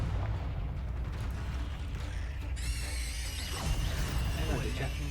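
A Confringo fire spell goes off in Hogwarts Legacy: dense rumbling bursts and crackles, then a bright, ringing magical shimmer that rises partway through and lingers over the continuing blasts.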